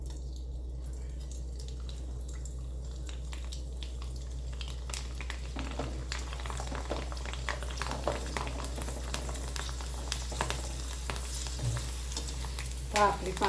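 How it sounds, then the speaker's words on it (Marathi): Sabudana papad fry in hot oil in a kadhai, giving a steady close sizzle with crackling bursts and light clinks of a utensil against the pan. "आपण आता आपली पापडी तळून घेऊया."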